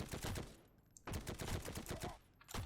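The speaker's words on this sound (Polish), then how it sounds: "strzelanie kurde z PPDK na taką odległość to jest jednak wyczyn" A PPD submachine gun fires in the World War II shooter Heroes & Generals. Rapid bursts of automatic fire crackle in close succession, with one brief pause between bursts.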